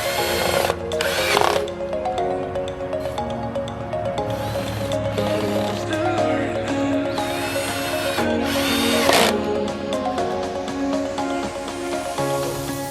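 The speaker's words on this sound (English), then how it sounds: "Screw the hinges to the T-post wood 2x4s, and then you're going to screw it into the gate so that they connect." A cordless power drill drives screws through hinges into a wooden 2x4 fence gate, with several bursts of whirring motor that rise and stop, separated by brief pauses, close and loud.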